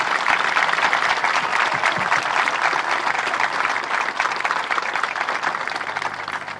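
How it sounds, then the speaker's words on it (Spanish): Sustained applause from a large crowd, dense and steady clapping throughout without letting up. "creo que merecen el aplauso enorme de cada uno de nuestros ciudadanos"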